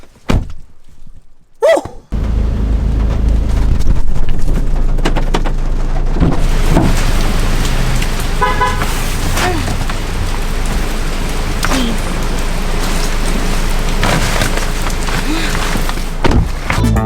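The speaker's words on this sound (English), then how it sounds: "Hopefully the storm does not pick up to a crazy amount where we lose power" Heavy typhoon rainstorm in the Philippines, a loud, dense rush of rain on surfaces that rises after a quiet opening and holds steady, with occasional dull thumps that may be thunder.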